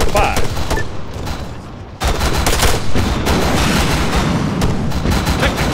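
Heavy gunfire in the military shooter Arma 3, a loud, dense burst of rapid shots and booms that drops briefly, then resumes as sustained fusillade with talk underneath.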